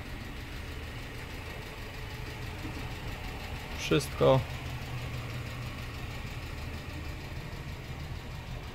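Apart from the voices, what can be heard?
car engine idling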